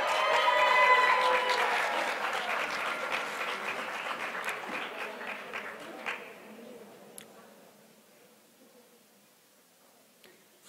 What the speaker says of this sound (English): Please give a round of applause for our Masters in Clinical Psychology graduates.